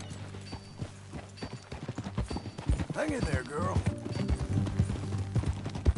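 Horse hooves clip-clop steadily on a trail in Red Dead Redemption 2, with a brief whinny midway, while a character speaks over the riding.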